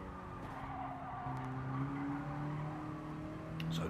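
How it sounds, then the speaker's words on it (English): A Mini Cooper Cup race car at Willow Springs squeals its tyres under heavy braking, with a sustained rising tire squeal over engine noise heard from a distance. "Struggling under braking."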